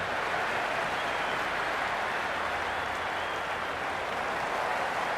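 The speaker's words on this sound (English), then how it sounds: "There's a buzz, a real buzz coming from the stands." Cricket crowd at an India versus Pakistan match, cheering and applauding steadily from the stands, a dense continuous roar with no break throughout.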